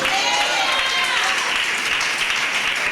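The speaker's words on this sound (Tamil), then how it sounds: "கைத்தட்டி ஆமென்." A congregation at a Tamil-language service in World Saviour Blessing Church claps throughout, a dense, sustained round of applause with a preacher's voice carrying over it.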